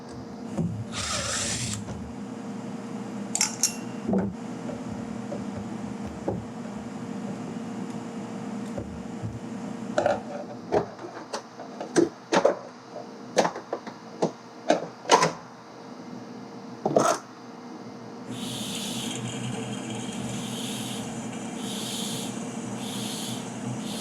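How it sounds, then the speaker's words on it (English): Two T20 Torx screws being removed from a 2011 BMW 328i 3.0 engine during an oil filter housing gasket job, heard as scattered close metallic clicks and ticks over a low steady hum, with no talking. "Take out 2 T20 torque screws."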